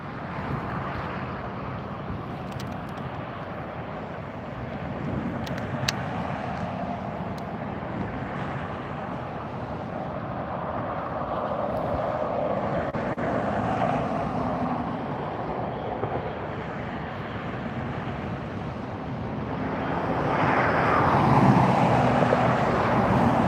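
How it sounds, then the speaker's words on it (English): An Airbus A350-1000 jet arriving at LAX, a steady broadband roar heard from a distance that swells gradually toward the end, with wind buffeting the microphone. "Looks like an A350 1000 coming in"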